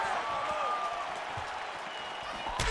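A virtual arena crowd in the UFC 5 fighting game cheers and murmurs in a steady, dense roar throughout, with a short sharp accent near the end.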